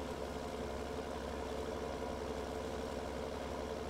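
A Farming Simulator 17 tractor engine chugs in a low, steady idle-like rumble with even rhythmic pulsing, close and continuous for a few seconds with no talk.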